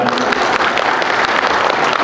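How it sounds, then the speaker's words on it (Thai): Loud, sustained applause from the audience at a Thai professional footballers' seminar and alumni homecoming event, a dense continuous clatter of many hands close by. "ขอเสียงปรบมือครับ"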